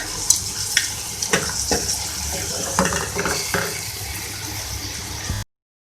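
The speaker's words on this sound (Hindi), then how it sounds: "मैंने कीमे को जो है भून लिया है और मैं इसमें पानी ऐड कर रही हूँ ताकि ये गल जाए।" Water pours into a pan of frying beef mince with whole garam masala, a steady close splashing and sizzling hiss with a few sharp clinks and bubbling pops, then stops abruptly.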